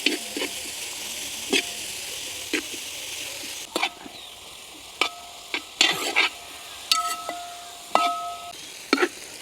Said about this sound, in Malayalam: ഉപ്പ് ആവശ്യത്തിന് ചേർത്ത് നമുക്ക് ഇതൊന്ന് നല്ലപോലെ കളർ മാറി വരുന്നിടം വരെ നല്ലപോലെ വഴറ്റി കൊടുക്കുക